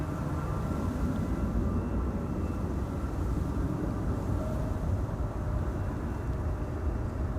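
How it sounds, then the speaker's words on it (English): KLM airliner bound for Geneva at Amsterdam Schiphol Airport, a steady low engine roar holding at constant level throughout, moderately distant with no voices. "KLM flight 1933 to Geneva over here."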